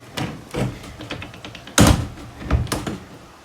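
The door of a box van being conversion-built, moved and closed with several hollow thunks and one heavier slam near the middle, close and fairly loud.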